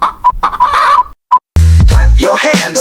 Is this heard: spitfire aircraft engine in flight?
no